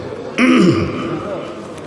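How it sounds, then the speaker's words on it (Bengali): A man's sudden throat clearing and short cough, from someone recovering from fever and chest pain, bursts out loud and close, then fades into quieter breathy noise. "কাশি আসছে"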